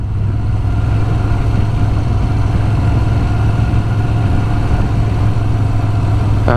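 A motorcycle engine idles steadily before a ride on a cool November day, a loud, close, even low rumble that holds without change for several seconds with no talking over it.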